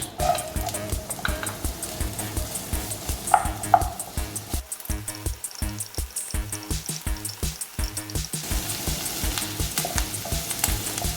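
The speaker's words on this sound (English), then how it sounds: "I think our oil is hot now, so let's put in our onions." Onions dropped into hot oil for sprout spring rolls, frying with a loud, continuous sizzle and crackle, broken by the scrape and clink of stirring with a utensil in the pan.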